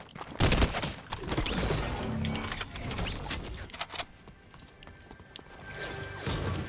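Gunfire in Fortnite Battle Royale crackles in loud bursts, with dense rapid shots mixed with crashes and whooshes, close and busy throughout.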